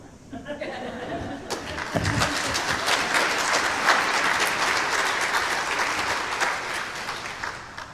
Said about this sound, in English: What a cheap way to get applause